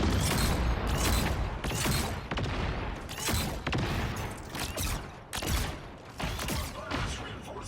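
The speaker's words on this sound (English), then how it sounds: "Rockets, fire!" Rockets fire in a rapid barrage in the Marvel Rivals video game, a loud, dense string of blasts and whooshing bursts rolling on steadily for several seconds.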